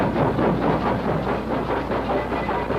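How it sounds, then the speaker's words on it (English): A steam train jolts away amid soot and iron, a dense steady rumble and rattle of railcars filling the whole stretch without voices. "the train jolts away into the past"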